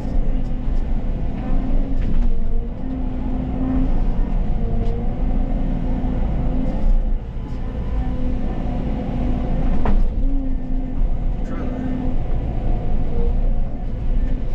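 Bulldozer engine working while cutting a road, a loud continuous diesel rumble with shifting load and intermittent clanks and scraping knocks, running steadily for about fifteen seconds with no talk.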